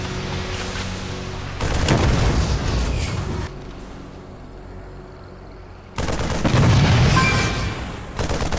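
A Terran base under attack in a StarCraft II 2v2 match sounds with bursts of rapid machine-gun fire and booming explosions. Two dense, loud volleys are separated by a quieter lull.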